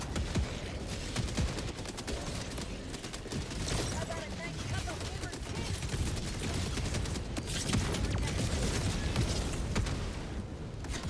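Continuous, dense video-game gunfire fills the whole stretch as enemies are shot during a defense mission, sustained bursts with booming impacts, partly masked by a talking voice throughout.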